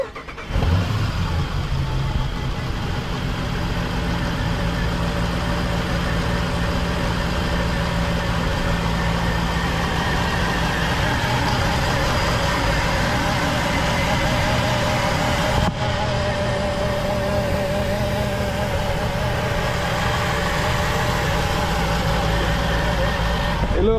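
A Jeep Trackhawk's engine runs steadily, heard up close from inside the engine bay, a constant loud mechanical drone with whine and hum that stays even throughout, no revving evident.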